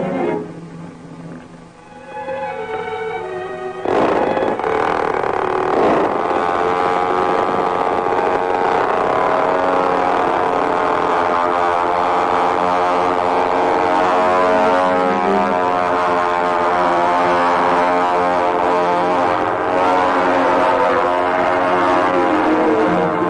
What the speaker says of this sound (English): You may launch the plane.